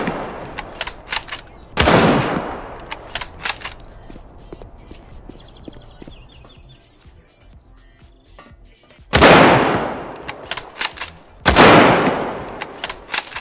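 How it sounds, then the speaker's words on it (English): Sniper rifle gunfire in the Dead Matter video game: three loud, booming shots spaced several seconds apart, each trailing off with echo, with lighter clicks and steps in between. "And then he pulls out the sniper rifle,"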